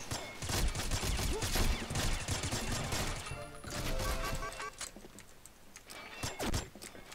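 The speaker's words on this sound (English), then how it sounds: "Must be an assault rifle." Assault rifle fire in the game Combat Arms, bursts of quick shots in the first half, then quieter scattered shots and clicks toward the end, moderately loud with no talking.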